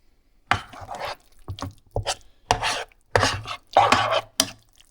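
A beef and refried bean mixture is stirred in a skillet, heard as close, loud bursts of scraping and shuffling, each lasting about a second, with short pauses between strokes.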